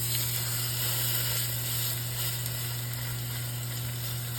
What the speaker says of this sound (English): Let's get it browned up.